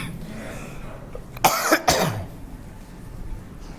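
A lingering cough, about six weeks into a long-lasting illness, breaks out twice in quick succession during a religious lecture, each burst loud and harsh against the quiet room before fading back to near silence.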